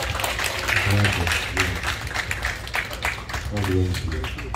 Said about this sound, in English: Can we clap for that?